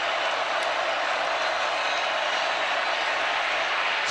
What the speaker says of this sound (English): The crowd has come alive looking for a stop